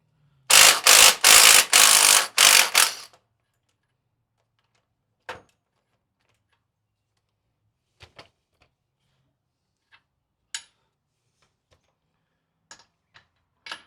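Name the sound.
socket ratchet loosening bolts on OKA 251 front diff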